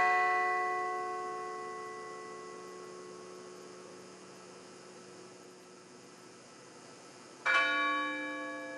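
A single memorial bell strikes once, clear and ringing, at a 9/11 anniversary observance ceremony, following a long stretch of quiet, humming room tone and sustained tones from an earlier strike fading away.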